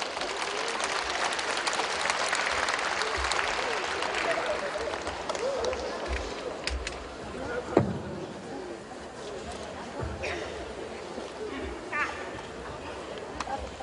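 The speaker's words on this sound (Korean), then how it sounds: "두 분께 큰 박수 부탁드립니다" Applause from the audience at the 35th Gyeongsangbuk-do Disabled Persons' Day ceremony in South Korea, a broad steady clapping that fills the hall for the whole stretch, with a few sharper knocks and some voices mixed in.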